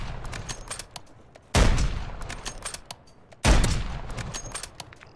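Gunfire from guns in a zombie video game: two loud bursts of shots, one near 1.6 s and another near 3.5 s, each decaying quickly, over a quieter bed of continuous game sound.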